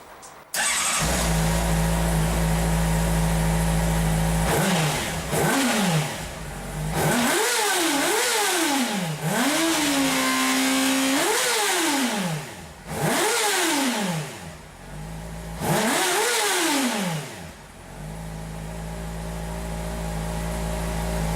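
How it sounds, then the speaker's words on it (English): A warmed-up motorcycle with its stock OEM exhaust idles steadily and then revs up and down several times in quick blips, loud and close, before returning to idle, with no talking. "I just had the bike running, it's warmed up, and I've got the OEM exhaust."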